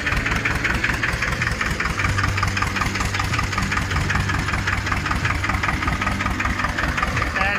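A 36-year-old HMT 2511 farm tractor engine idles close by with a steady, loud, knocking diesel chug and a low rumble, running continuously without talk.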